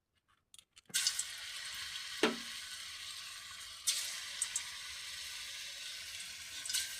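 A sharp burst of sizzling starts as banana kofta batter with gram flour and soda goes into hot oil, settling into a steady frying hiss with a few sharper crackles and spoon taps.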